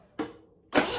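The engine of a 1974 MGB is cranked during a fuel pump test while the pump is suspected bad. Two short bursts of starter cranking are heard close up, separated by a brief quiet gap.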